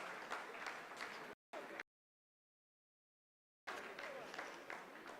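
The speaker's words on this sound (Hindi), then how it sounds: "आप इस तालियों के गड़गड़ाहट को सुन सकते हैं" Scientists in the Chandrayaan-3 mission control room break into a roar of applause during the lunar soft-landing, dense and sustained, cut by a few seconds of silence before resuming.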